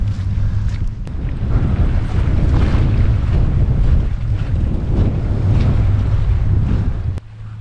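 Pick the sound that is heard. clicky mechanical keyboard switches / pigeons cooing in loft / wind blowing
wind blowing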